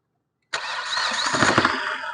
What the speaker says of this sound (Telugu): సింగిల్ సెల్ఫ్ అయితే బండి స్టార్ట్ అవుతుంది సార్ అలాంటి స్టార్టింగ్ ట్రబుల్ లేదు